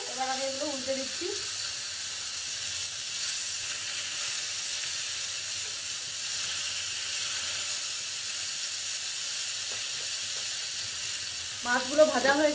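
Freshly flipped rohu fish pieces fry in hot oil with an even, continuous sizzle close by, framed by brief louder spitting bursts at the start and end.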